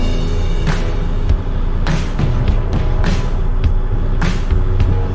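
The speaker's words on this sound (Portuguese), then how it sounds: "Ainda está puxado e o caminhão está sendo controlado sozinho" A self-driving truck rolls along under its own control, giving a loud, steady engine and road drone with a few brief hissing bursts spaced through it.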